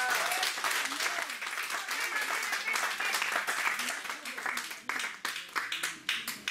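A church congregation claps and cheers loudly together during a worship service, with raised voices mixed into sustained applause that breaks into sparser, separate claps near the end.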